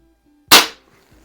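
A single sharp crack from a Crosman SSP-250 .177 CO2 target pistol firing a pellet after repairs, close and loud, decaying quickly into silence.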